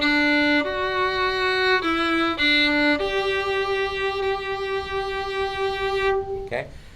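A fiddle plays the opening phrase of a simple melody in country style, a few sustained bowed notes stepping between pitches, clear and close with no talking, ending in a brief scrape.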